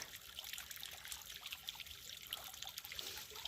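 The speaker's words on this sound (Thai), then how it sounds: "มองในบ้านก็จะเห็นน้ำไหลวิบวิบวิบวิบค่ะ" Water trickles and drips steadily in a soft, bubbling patter inside a house in near-freezing weather, faint and continuous with no voices.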